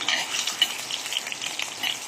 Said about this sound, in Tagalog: Nilagay na natin yung patatas sa mainit na mantika.